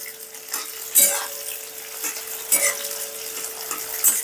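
Capsicum and onion fry in a hot pan with a steady sizzle, broken by repeated scraping stirs at close range and occasional metal clinks; no voices.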